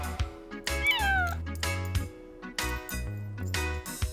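A cat meows close by with one long rising-and-falling call among shorter clicks and knocks, and no one speaks.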